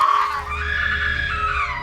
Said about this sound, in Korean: 인기척을 느끼고 소리를 지르는 동생 괴물.